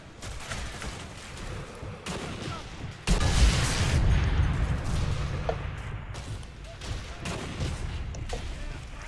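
Sniper rifle gunfire in the video game Sniper Elite 3, several sharp shots and one heavy boom cracking over a busy background of distant battle noise.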